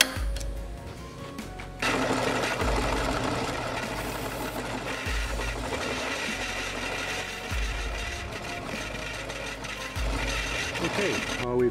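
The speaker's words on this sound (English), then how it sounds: "We've got the 1 inch holes drilled." A drill boring 1-inch holes in steel for a homemade excavator thumb on a Bobcat 322, a steady loud grinding whir with a rhythmic low thump that repeats about every two seconds.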